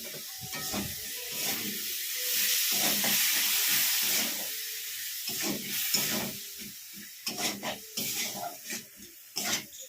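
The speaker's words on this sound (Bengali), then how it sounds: "এরপর আমি দিয়ে দিচ্ছি টক দই।" Sour yogurt spooned into jackfruit frying in a pan, with a steady broad sizzle and hiss and repeated scraping stir strokes that grow more separate and clattery toward the end; no one speaks.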